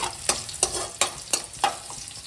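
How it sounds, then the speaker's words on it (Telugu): Onions fry steadily in a pan on a constant sizzle, with a spoon stirring them in regular scraping strokes about every third of a second, close and clear. "సో బాగా వేగుతుంది, ఇలా వేసుకోవాలి, బ్రౌన్ కలర్ అవ్వాలి."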